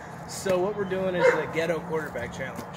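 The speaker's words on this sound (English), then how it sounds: "I'm sorry about the dog. He barks a lot." A dog barks and yips indoors while someone talks over it, the barks mixed in with and partly masked by his voice.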